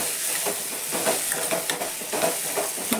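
Onion frying in a pan over a gas stove, a loud, continuous sizzle broken by repeated scraping stirs in an irregular rhythm, close up and with no talking.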